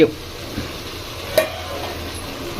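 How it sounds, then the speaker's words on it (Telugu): Chicken curry for chicken biryani simmering and frying in a pot, a soft steady sizzle with occasional stirring scrapes and a brief louder clink midway, close by with no talk. "చూడండి ఎట్లే ఉడుకుతుంది."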